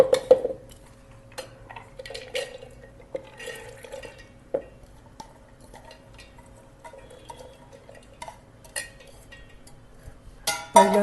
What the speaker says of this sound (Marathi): आता मी मिक्सरच्या भांड्यात ही डाळ घालते आहे.